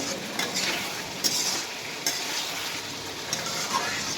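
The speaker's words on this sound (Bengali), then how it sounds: "এটাকে খুব সুন্দরভাবে কষিয়ে নেবেন। তরকারিটা যত কষাবেন তত তরকারির স্বাদ আসবে।" Taki fish curry is sautéed and stirred in a pan, giving a soft, continuous sizzle with a few scraping strokes and light clinks of a utensil against the metal, close by and without talk.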